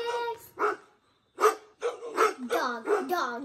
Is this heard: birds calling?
no